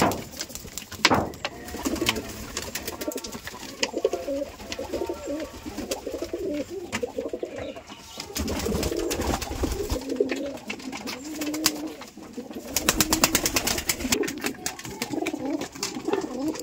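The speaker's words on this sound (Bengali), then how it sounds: "এই যে কবুতর খাওয়াচ্ছে" Pigeons cooing while being fed, repeated low throaty coos from several birds close by, with soft flutters and scuffles in between.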